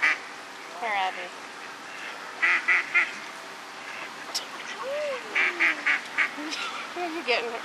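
Ducks quack in short bursts, several clustered calls repeating close by while being fed bread, with a few honking sounds and background voices between them.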